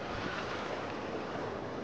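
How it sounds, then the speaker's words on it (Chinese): Big ocean waves stirred up by a typhoon roar steadily around an island shore, a dense, continuous wash of surf with wind, fairly close and without talk. "由于受到台风影响，最近的海浪非常大"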